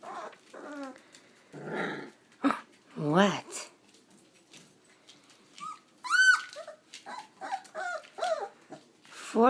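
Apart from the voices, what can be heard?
puppies whining, 3.5-week-old Italian litter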